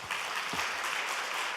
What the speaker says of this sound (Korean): 다시 한번 그 박수 올려드리시면 좋겠습니다.